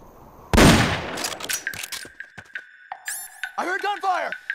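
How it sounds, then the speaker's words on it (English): Video-game gunfire in Metal Gear Solid Peace Walker HD erupts as a sudden loud burst, followed by scattered sharp shots, metallic clangs and electronic alert tones, with game voices nearby. "I heard gunfire!"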